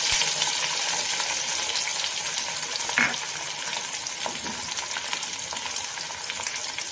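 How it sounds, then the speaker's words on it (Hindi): Mustard seeds and black pepper crackling in hot oil for mango pickle, a steady dense sizzle with fine popping and a brief stir partway through, close and continuous with no talking. "ऑयल हमारा गरम हो चुका है, इसमें मैंने राई और काली मिर्च डाल के इसको चिड़चिड़ाने के लिए छोड़ दिया है"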